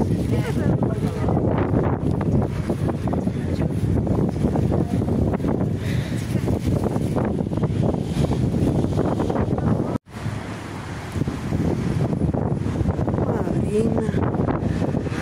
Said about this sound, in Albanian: frynë shumë erë dhe vjen nga Sahara në tymë